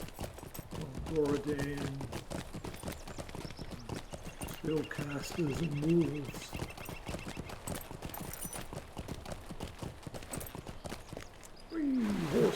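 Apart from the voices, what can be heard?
horse hooves clip-clopping in Lord of the Rings Online video game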